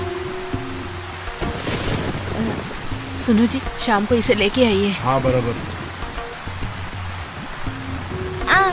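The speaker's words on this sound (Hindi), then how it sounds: "क्या है पापा, इतना बारिश हो रहा है?" Heavy rain pours steadily outdoors as a dense, loud hiss, with people talking over it partway through.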